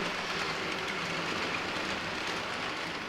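A model railroad locomotive pulls a mixed freight train, giving a steady, even rolling rumble and hiss that holds level throughout, close by, with no talking.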